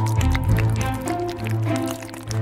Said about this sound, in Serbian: Došlo je vreme da sipam žele u flašu sa očima.